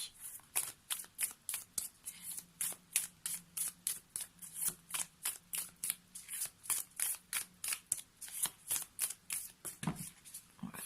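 Tarot cards riffled and shuffled in a steady run of quick, crisp flicks, about two each second, close and fairly quiet, with a short pause near the end and no talk.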